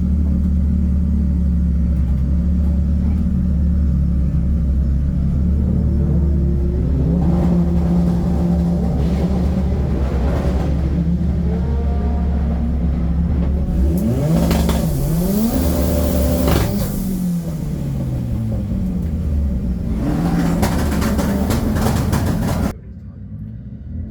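A drag racing car engine heard from inside the cockpit drones loudly and steadily, then revs and rises in pitch through acceleration before cutting off abruptly near the end.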